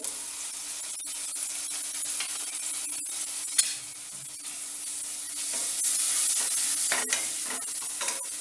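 Ginger garlic paste sizzles in a pressure cooker while being stirred, a continuous bright hiss broken by scraping strokes and a brief clatter near the middle, close up with no voices.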